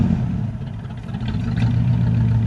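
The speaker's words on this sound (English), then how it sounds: "You can barely rev it. I mean, watch what happens." A Ford LTD engine with a faulty carburetor runs loud and close, its low rough idle rising into a labored, strained rev that never climbs cleanly.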